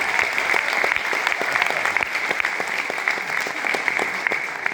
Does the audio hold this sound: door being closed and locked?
no